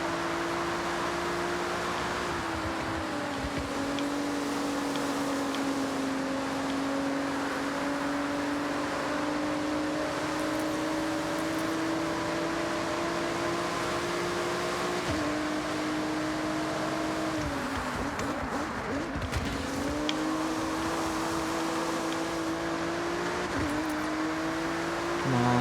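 Honda NSX engine in the Forza Horizon racing game, a steady sustained drone with smooth pitch shifts and a few gear-change dips, continuous and fairly loud with no talking.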